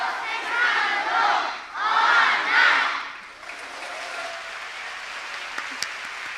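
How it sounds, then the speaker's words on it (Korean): An audience in a church gives loud applause and cheering in two swelling waves, then it fades to a quieter room murmur. "다시 한번 뜨거운 박수로 함께 축복해 주시겠습니다."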